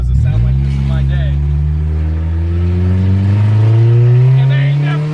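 The VTEC engine of a 1998 Honda CR-V pulls hard from a low start, its pitch rising smoothly and loudly through a long acceleration while people talk excitedly over it.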